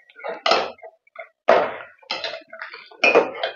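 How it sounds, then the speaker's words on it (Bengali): A spoon stirs milk in a cooking pot while mango yogurt is being made, scraping and clinking against the metal in four or five short bursts with brief pauses between, close and clear. "এরপর খুব ভালো করে আবার ঘেঁটে দিতে হবে দুধটা।"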